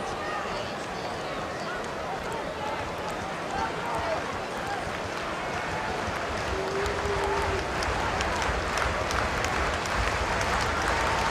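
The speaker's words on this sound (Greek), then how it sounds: "Ρυθμικό χειροκρότημα από την εξέδρα για ένα τρίτο γκολ που επιζητά το κοινό της Λίβερπουλ." A Liverpool football stadium crowd at a Carabao Cup match against Leicester claps in a steady rhythmic wash from the stands, distant and continuous, with a commentator talking over it.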